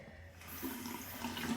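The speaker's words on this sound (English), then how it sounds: "I just like to splash my face with some warm water." Warm running water splashes softly as a face is rinsed at a sink, a brief, faint wash of water sounds close by.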